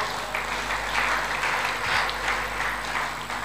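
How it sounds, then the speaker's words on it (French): A church congregation applauds and acclaims during a sermon, a sustained wash of many clapping hands with a faint murmur of voices, steady and moderately loud throughout. "nous acclamons encore"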